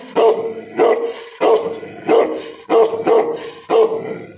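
A dog barks loudly and close by, seven separate barks in an uneven rhythm with short pauses between them, and no one speaks over it.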